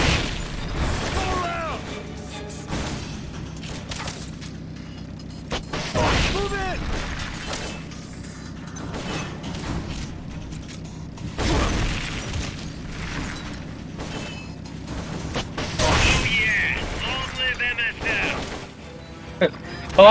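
Bursts of gunfire and explosions in Metal Gear Solid: Peace Walker come in loud clustered volleys separated by quieter stretches, with voices talking through much of the action.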